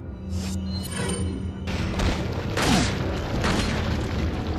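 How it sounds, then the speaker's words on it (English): A flash grenade going off in Resident Evil 4, a booming burst with a bright crackling tail over game noise, followed by more blasts, no speech. "We're throwing a flash grenade."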